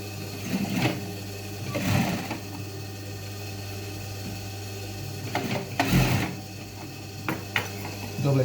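An industrial sewing machine stitching the watch pocket of a pair of jeans, running in bursts with rapid mechanical chatter that swells and stops several times over a constant low hum, close by.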